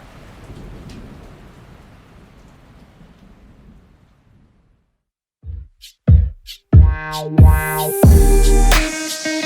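Thunderstorm at night in Oklahoma: steady rain hisses for several seconds and fades, then loud close thunder cracks and rumbles in a rapid series of heavy booms.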